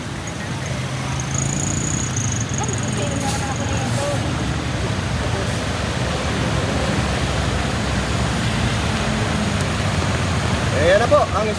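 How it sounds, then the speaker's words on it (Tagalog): Severe floodwater covering Jose Abad Santos street in the city, a steady broad rushing wash of water with faint traffic behind it, under a voice talking. "Ayan na po ang sitwasyon natin ngayon dito sa Jose Abad Santos. Matinding baha."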